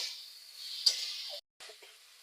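Spiced potatoes and eggplant sizzle in a frying pan as a spoon stirs them, a steady soft hiss with a brief scrape and a short pause midway.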